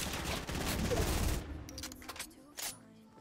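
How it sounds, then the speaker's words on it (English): Rapid bursts of gunfire from the video game Fortnite Battle Royale, a dense loud volley in the first second and a half, then scattered shots with a voice speaking between them. "Nice shot."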